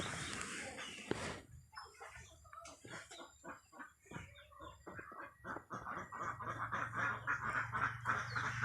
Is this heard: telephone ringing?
no